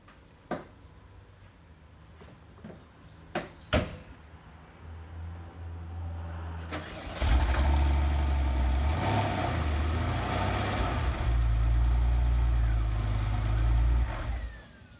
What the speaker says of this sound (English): This is a cold start video.